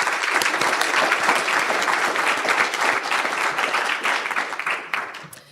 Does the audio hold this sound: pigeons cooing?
no